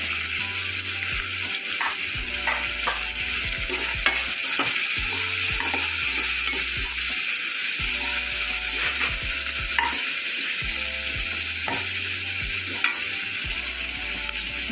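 Red chillies fry in hot oil in a pan for cabbage palya, a steady close sizzle broken by repeated scraping stirs and knocks of a spoon against the pan, with no talking.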